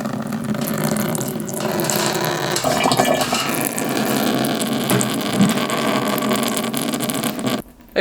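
Oil pours into a car gearbox and drains out of it, giving a steady liquid rush with a gurgling stream close by that cuts off near the end.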